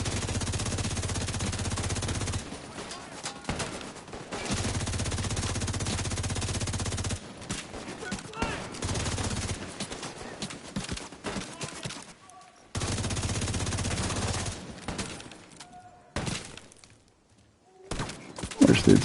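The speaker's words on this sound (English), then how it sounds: "I'm just going to shoot up there." Bursts of automatic gunfire from a PvE shooter video game, long sustained volleys broken by short pauses and quieter gaps, with a few scattered single shots near the end.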